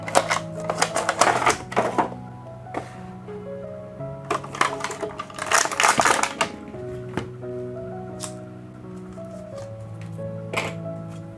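A Bakugan toy single pack is opened by hand, giving a run of sharp plastic clicks, crinkles and snaps in bursts close to the mic.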